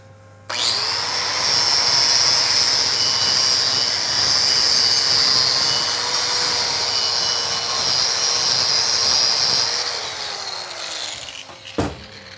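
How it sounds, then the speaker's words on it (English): A wire wheel scrubs a weld bead on 4-inch copper-nickel pipe, a loud, continuous abrasive whirring rasp that holds steady for about ten seconds, then winds down and ends with a clunk. "we'll go ahead and really clean this up with a wire wheel this time"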